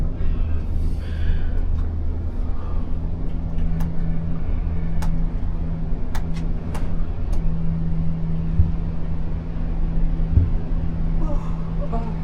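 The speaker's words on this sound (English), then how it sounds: "this is the longest cable Yeah, cable car ride in the world" Cable car ride at Ba Na Hills, Vietnam, one of the world's longest: a steady low mechanical hum and rumble with sharp clicks from the cabin, continuous throughout as people talk.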